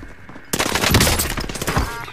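Rapid video game gunfire in a military shooter match, bursting in loudly after a brief quiet lead-in and continuing as dense, overlapping automatic fire for about two seconds.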